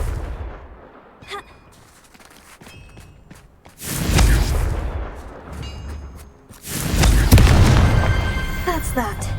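Confringo spell blasts in the Hogwarts video game, two loud booming bursts with a crackling, rumbling tail, the second larger and longer, following quieter spell effects.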